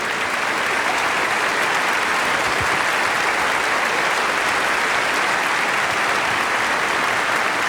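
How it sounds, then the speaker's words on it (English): Studio audience applause from a large crowd, loud and sustained dense clapping that holds evenly throughout without any break or voices. "You love that applause, don't you?"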